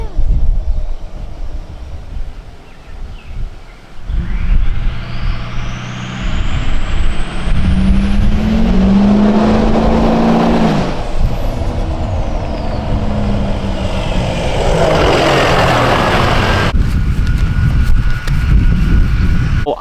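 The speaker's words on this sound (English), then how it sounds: "I think this truck sounds better" A loud diesel pickup truck engine rumbles and roars up close, rising in pitch as it revs and passes, with a hiss of air near the end.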